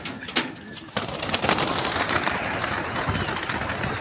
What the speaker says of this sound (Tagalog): Ayan na, pinawala na ibon nyo.